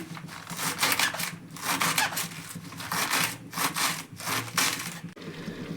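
Saag greens being chopped with a knife, a steady run of brisk rasping cuts that comes in bursts with short pauses between them, close and fairly loud, with no talking.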